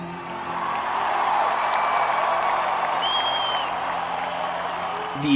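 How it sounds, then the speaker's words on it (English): A concert crowd at Key Arena in Seattle cheers and applauds with a dense, sustained roar. It swells and holds for several seconds, with faint whistles and whoops rising above it. "That gets a huge response from the crowd"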